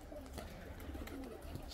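White pigeons coo softly at a dovecote landing spot, a few low murmuring coos against faint background noise, fairly quiet and close.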